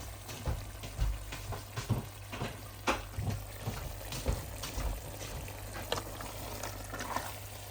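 Mutton curry sizzling in a pan as it is stirred, a low steady fry with soft scraping strokes recurring every second or so, fairly quiet and close.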